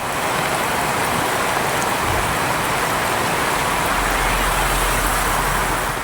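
Heavy rain pours down steadily in Thanjavur, driven by strong wind, a loud, dense and unbroken hiss with no voices.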